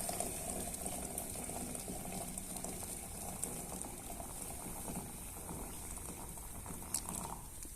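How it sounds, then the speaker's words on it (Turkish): Tea water comes to a boil in a kettle, a steady close bubbling and hiss that holds without a break, with faint ticks and pops over it and no voices. "O yüzden çay suyu güzelce kaynatacaksın"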